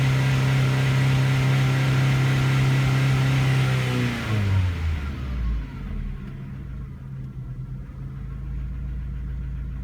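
A 1998 Ford Contour with a 2.0L engine holds a steady high rev, then winds down through a falling pitch and settles into a lower, even idle, heard up close.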